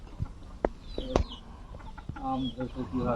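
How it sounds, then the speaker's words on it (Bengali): Chickens in a coop at a village home give a string of short, close clucks and squawks that build into steadier clucking toward the end. "মুরগির খোপ"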